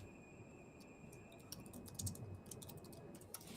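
Quiet typing on a computer keyboard, a run of soft, irregular key clicks over steady background hiss, with no talking.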